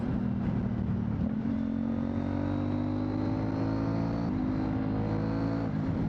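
An adventure motorcycle engine drones steadily and close while being ridden on a country road. The pitch sits fairly even, with slight shifts as the throttle changes and wind rushing underneath. No voices.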